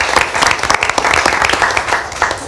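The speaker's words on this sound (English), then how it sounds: "let's give her a round of applause." Applause comes from an audience at a school board meeting, a dense patter of many hands clapping fairly close, steady, with no voices over it.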